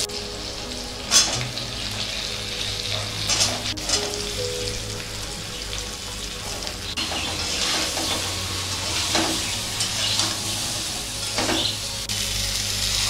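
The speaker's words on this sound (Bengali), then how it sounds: "এবার আমি ঝিঙেটা দিয়ে দেবো।" Ridge gourd sizzles in hot oil in a home pan with fried potatoes and black cumin seeds, a steady loud crackle with scraping stir strokes throughout and no voices.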